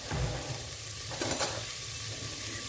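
Curry paste fries and sizzles in a pan alongside browning chicken, a steady close hiss with occasional scraping stirs, no talk over it.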